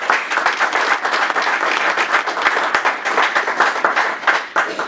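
Sustained applause from a sizable crowd at a political congress in Brussels, dense clapping throughout at a steady loud level with no voices standing out.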